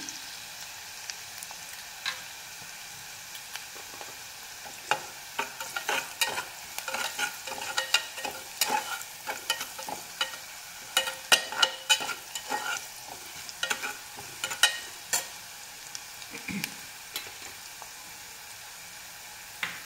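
Onion sautés in a pan with a gentle sizzle while a spatula scrapes and taps in quick irregular strokes, close and fairly quiet, with no voices.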